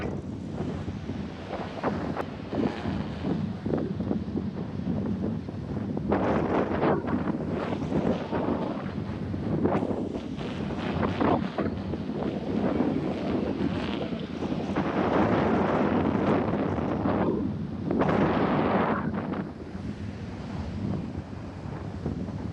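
Strong wind roars steadily across an open shoreline while a kite is flown, gusts swelling and easing in loud broadband buffeting close to the microphone, with no voices.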